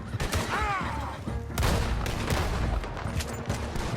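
Gunfire erupts during a Red Dead Redemption 2 shootout, with repeated rifle and revolver cracks in an irregular volley, loud and close, while shouting voices mix through the fight.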